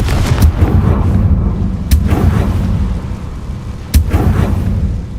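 Confringo fire-spell blasts from Hogwarts Legacy crack out as three sharp, loud bursts spaced about two seconds apart over a constant rumbling game background.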